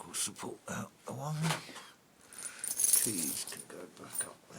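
Keys jangle in a short metallic rattle in the middle, with people talking and a dog making noises around it.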